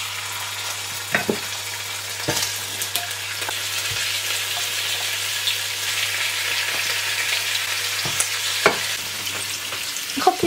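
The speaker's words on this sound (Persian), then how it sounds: "ما تو مرحله اول یه مقدار روغن میریزیم و شروع میکنیم به سرخ" Meat frying in oil for Afghan Kabuli pulao gives a loud, steady sizzle throughout, with the scattered clicks and scrapes of stirring.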